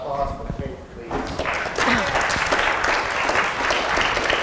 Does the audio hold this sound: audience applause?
yes